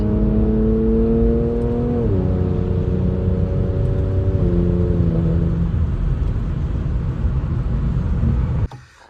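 An Infiniti Q60 drives with a loud, close engine drone whose pitch rises and shifts through gear changes, holding a steady rumble throughout before cutting off abruptly at the end.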